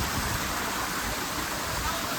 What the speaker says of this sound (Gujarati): અહીંયા પાણીનો ધોધ